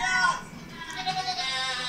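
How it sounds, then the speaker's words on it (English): Goats bleat in a short burst, a couple of wavering cries close by, with some voice-like noise mixed in. "Oh no, goats!"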